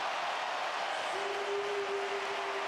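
Loud, continuous roar of an arena crowd cheering a buzzer-beater basket at a Serbia v Israel FIBA Basketball World Cup 2019 qualifier, a dense wall of noise holding steady throughout, with a sustained horn-like tone entering partway through.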